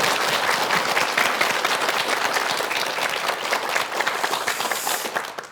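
Audience in a lecture hall applauding to welcome a lecturer, with dense, steady clapping from many hands that holds strong for several seconds before tapering slightly at the end.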